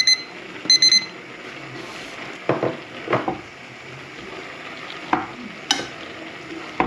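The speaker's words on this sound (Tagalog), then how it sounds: "ngayon guys, ilalagay na natin itong broccoli." Broccoli goes into a hot frying pan while cooking vegetarian broccoli with tomato, bringing a low sizzle with a few scattered clatters and knocks, after a pair of short high beeps at the start.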